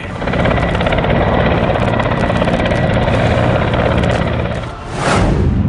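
A military helicopter at an Indian–US joint exercise at the Mahajan field firing range in Bikaner gives a loud, continuous rotor roar close by, dipping briefly before surging back.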